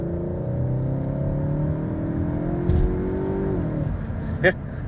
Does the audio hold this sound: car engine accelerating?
yes